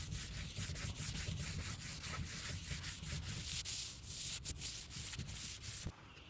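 Rhythmic rubbing strokes on a mildewed mid-century modern wood china cabinet as it is wiped with bleach and water, the steady scrubbing close and fairly quiet with no talking.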